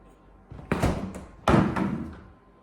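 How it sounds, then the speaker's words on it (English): A kitchen drawer slides out with a thump and is pushed back shut a moment later, two close, fairly loud wooden knocks with brief rumbling slides, during egg-based recipe preparation. "You just take out a drawer and use whatever you need and then put it back."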